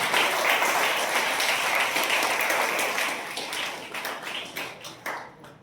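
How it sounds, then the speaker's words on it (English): Children clap together for two classmates at an English seminar: a brisk, dense round of applause that holds steady, then thins into scattered claps near the end. "I would like all my children to clap for Yogita and Sia."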